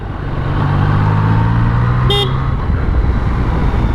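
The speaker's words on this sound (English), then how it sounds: "that's me trying to turn the indicator off and pressing the horn" A Yamaha Tracer 900 GT motorcycle's horn gives a brief, sharp toot midway, sounding over the bike's steady loud engine drone and wind rush.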